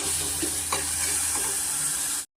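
Tomatoes frying in a pan, a loud continuous close sizzle with occasional stirring scrapes, cutting off abruptly.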